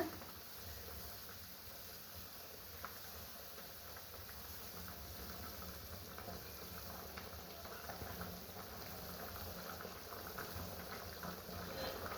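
Water boiling in a pan while semolina is added for masala upma: a faint, steady bubbling and rumbling that continues evenly throughout, with no clear speech.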